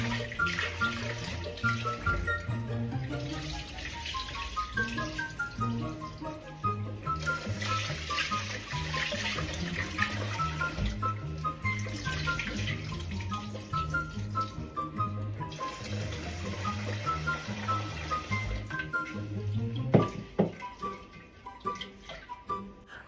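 Water runs steadily into a pan to boil longganisa sausages in a home kitchen, a continuous pouring rush over a constant bed of music, the flow cutting off near the end.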